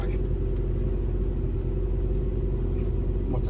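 A car engine with nearly 340,000 km on the clock idles close by, a steady, even low rumble with a constant hum that holds throughout without revving.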